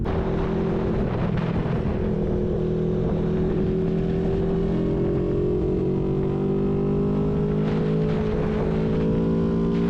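CF Moto 650 NK motorcycle, a 2023 model, riding with a loud continuous engine drone whose pitch slowly rises as it pulls, with wind rush around it.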